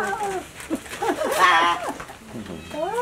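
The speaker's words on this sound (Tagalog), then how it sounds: "Aba, ibang kulay na pusa." A cat meowing, several drawn-out rising and falling meows in quick succession near the microphone, with a person talking around them.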